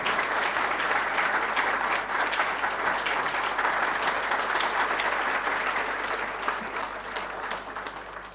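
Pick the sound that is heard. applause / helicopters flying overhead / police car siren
applause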